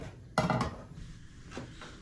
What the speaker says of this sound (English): So let's put another pan on